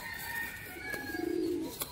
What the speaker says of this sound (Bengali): খুব সুন্দর একটা নর পায়রা, আজ প্রচন্ড ছটফট করছে